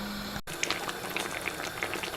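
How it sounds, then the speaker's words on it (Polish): Carrots for Uzbek pilaf simmer in a kazan with a close, steady bubbling and hissing, and small pops scattered through it. A brief low hum and a sharp cut come at the very start. "z 10 minut możemy spokojnie dusić tą naszą marchewkę"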